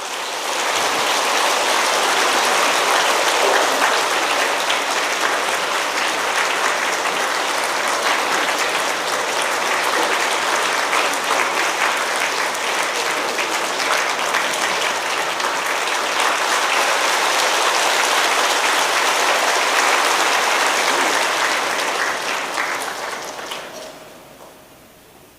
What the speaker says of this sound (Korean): 우리 양장님 나오실 때 뜨거운 박수로 환영해 주시기 바랍니다.